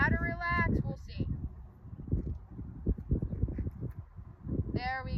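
Young horse in training stepping in a steady clip-clop of hooves, close by under intermittent talking, with a breathy whinny-like sound at the start and end.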